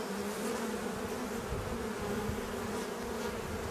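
Honeybees buzzing at an opened hive during an amateur beekeeper's inspection of brood frames: a dense, steady, close hum of many bees with a low droning tone, no voices.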